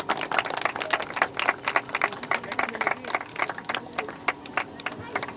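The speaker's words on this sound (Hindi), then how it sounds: "भरपूर तालियां।" An audience at a cricket tournament prize ceremony claps and applauds, with dense, uneven hand claps continuing throughout at moderate loudness.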